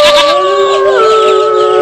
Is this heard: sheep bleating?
yes